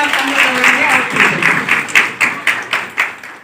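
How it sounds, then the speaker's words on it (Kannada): An audience applauds at the closing ceremony of a training programme for newly selected part-time volunteers. The clapping starts under talk, then turns into distinct rhythmic claps that grow sharper and more spaced toward the end. "ಜೋರ ಚಪ್ಪಾಳೆಯ"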